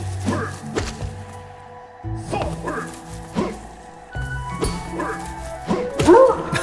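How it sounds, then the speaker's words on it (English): Dog-like yelps and whimpers from a dying enemy in the video game Hollow Knight, several short cries repeating over hits and thunks, mixed with game music and effects. "It sounds like a dog when he's dying. I guess that's a dog sample."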